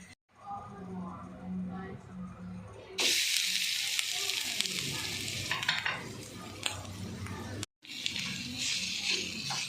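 Grated coconut roasting in coconut oil in a pan, a steady sizzle and stirring scrape that jumps loud a few seconds in, with a brief break near the end, while a voice talks over it.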